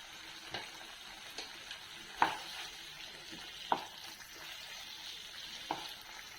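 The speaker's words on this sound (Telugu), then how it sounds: "చికెన్ వేసి కలుపుకున్నాను మూత పెట్టి ఒక ఐదు నిమిషాలు ఉడికించుకుంది ఇది ఉడుకుతూ ఉందండి" Chicken curry simmering in a covered pot, a soft low bubbling hiss with a few sharp clicks and taps spaced a second or two apart, faint and close with no talking.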